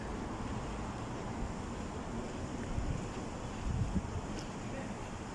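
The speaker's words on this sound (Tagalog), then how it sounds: "Oh, lakas ng hangin." Steady, roaring wind in Salmiya, Kuwait buffets the microphone throughout, with a couple of stronger gusts swelling near the middle.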